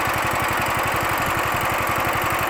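A Coleman trail bike's 6.5 HP gas engine idles close by, a loud, steady rapid chugging pulse with rattling mechanical vibration, running alone without talk.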